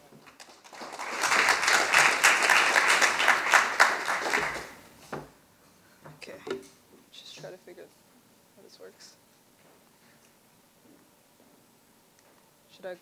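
Audience applause at a panel at the 2020 Code for Canada Summit, dense, steady clapping from a crowd for about five seconds, then fading into scattered sounds and a speaker beginning to talk.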